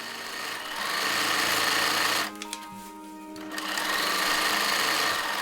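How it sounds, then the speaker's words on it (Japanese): A sewing machine stitches the hem of a handmade top in loud, fast, steady whirring bursts at close range, pausing briefly in the middle before starting up again. "裾を縫おう。"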